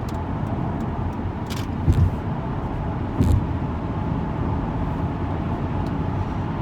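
Inside a Volvo V70 cruising on cruise control at 70 mph, a steady low engine and road drone fills the cabin, with a couple of soft thumps and faint high ticks over the even rumble.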